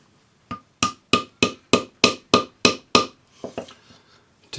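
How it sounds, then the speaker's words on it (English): A rawhide hammer taps the ends of a V-shaped ring shank into place, about nine crisp, evenly spaced blows followed by a few lighter, quicker taps, close and clear with no talking. "you can just use your rawhide hammer"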